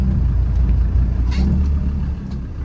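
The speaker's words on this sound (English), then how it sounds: "let's take her through the gears one more time." A 1998 Land Rover Defender 90 TD5 engine drones at low pitch as the vehicle accelerates through the gears, a steady close rumble with a brief rise in pitch midway.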